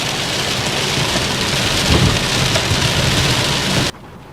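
Heavy rain pounds down in a dense, steady roar during a thunderstorm, with low rumbles of thunder underneath, loud and close, then cutting off abruptly near the end.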